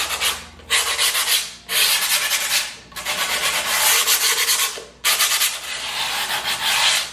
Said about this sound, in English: I'll fold it and make like a little triangle, and then I like to just sand the edge